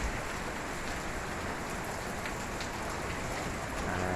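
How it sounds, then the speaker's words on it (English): Heavy rain lashes down steadily during Hurricane Melissa, a dense, constant roar of drops on surfaces with wind, unbroken and fairly loud throughout. "more rain, faster winds."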